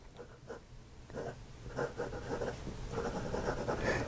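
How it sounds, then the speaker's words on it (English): A vintage Hero fountain pen nib scratches across paper in faint, irregular strokes, a soft dry scraping that comes in short bursts over a few seconds, heard up close and quiet, with no voices. "You can hear that nib, but you don't feel it."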